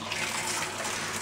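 Running water rinses soap off a dog named Boris during a bath, a close, steady gushing hiss that continues without pause.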